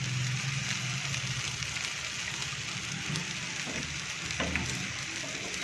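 Malpua sizzling in mustard oil over a medium flame, a soft, even frying hiss that runs unbroken with a few faint pops and crackles.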